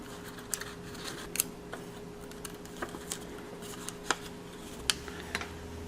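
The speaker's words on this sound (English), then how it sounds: "I'm going to use a little tape to hold them in place" Tape being pulled and pressed down to hold paper model parts of a cell in place, heard as a quiet scatter of short crackling ticks and soft rustles with no talking.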